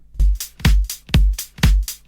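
An unprocessed drum loop repeats four times with an even groove, each hit a deep kick paired with a bright splashy top, clean and close with no voices.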